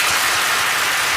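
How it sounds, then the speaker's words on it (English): Studio applause on a morning radio show: a steady wash of many hands clapping together, fairly close and even, filling the whole short moment with no talk over it. "Clap if you think she should suffer."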